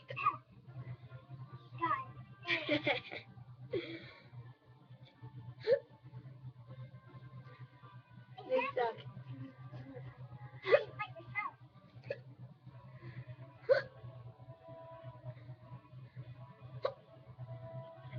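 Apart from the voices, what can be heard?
hiccups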